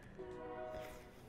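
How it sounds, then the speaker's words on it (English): A passing train sounds its horn in the background, a faint, distant sustained tone over low rumbling that lasts only a moment. "I'm sorry if you could hear the train in the background"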